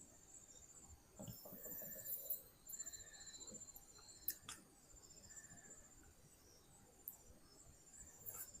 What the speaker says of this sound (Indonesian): Suara kodok ini.